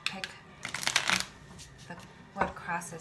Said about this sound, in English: I have to shuffle the cards